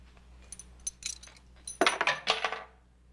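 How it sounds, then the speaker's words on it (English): A set of keys drops with a quick metallic jangle and clink in a quiet interior, heard in short bursts that build to a louder rattle near the end. "I believe you dropped your keys."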